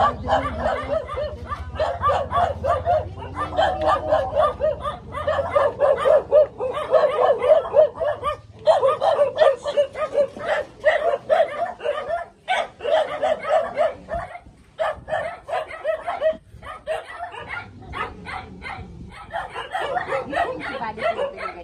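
Several dogs bark and yip repeatedly in uneven bursts, fairly close, with occasional whimpers and some voices mixed in.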